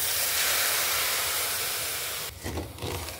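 Milk poured into a hot pan of fried semolina gives a loud, steady steam hiss that lasts about two seconds, then gives way to quieter bubbling and stirring noises.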